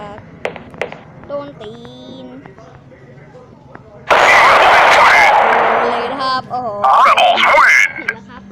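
Video game gunfire erupts as a loud, sustained burst midway through, then returns in shorter bursts near the end. A voice shouts excitedly throughout.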